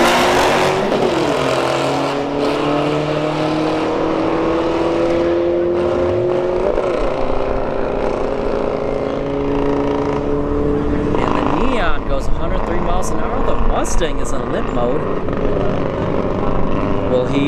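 Two drag racing cars, a Ford Mustang S550 and an SRT4 Neon, launch and run down a drag strip, engines climbing through rising gear pulls with shifts, loud and continuous amid track ambience.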